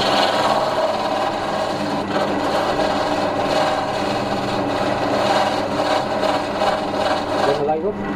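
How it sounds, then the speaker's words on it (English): A wood lathe spins steadily while a chisel cuts into the turning wood, giving a continuous loud, raspy scraping drone that lasts throughout with only slight variation. "Right, turn the lathe on. Right, now we come in here."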